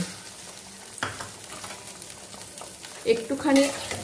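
Garlic and chillies hit a pan on low heat and begin to sizzle, with a few stirring scrapes and clatters, and louder handling sounds near the end.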